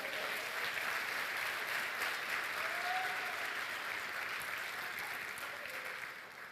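A church congregation applauds in a sustained, even wave of clapping that fills the room, then gradually tapers off toward the end.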